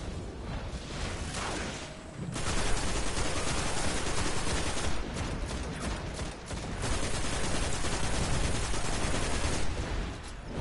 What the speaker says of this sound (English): My scout rifle, legendary.